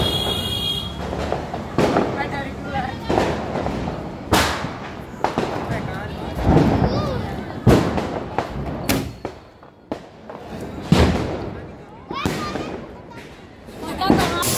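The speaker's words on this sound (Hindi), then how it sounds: "अपने बच्चों के साथ में बम पटाखे फोड़े जो कि थोड़े बहुत हम लेके आए थे" Firecrackers and bombs set off during Diwali celebrations, with repeated sharp bangs at irregular intervals and crackling bursts, some near and loud, amid ongoing background noise and people talking.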